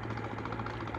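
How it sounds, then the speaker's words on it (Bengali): A boat engine passing on the water, heard as a steady, low, mid-pitched motor drone with a faint rhythmic throb lasting throughout the short moment. "ওই যে নৌকাটা আবার চলে গেল"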